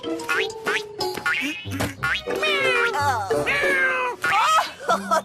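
A pet cat called Minou meows in a run of rising and falling calls, close and fairly loud, while a voice is heard alongside.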